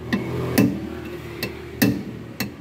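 Hammer blows on a rusted bolt of a Honda Civic wheel bearing, five sharp metallic strikes at an uneven pace, close and distinct over a faint background hum.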